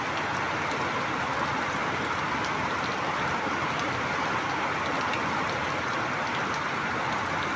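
Heavy rain pours steadily onto a rooftop in a constant dense hiss that never lets up, broad and close, with no voices.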